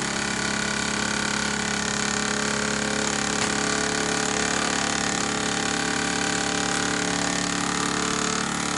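A small Midwest 4 model steam engine fired by sterno fuel, with a hand-soldered boiler, runs in a steady, dense hiss and whir that stays constant throughout.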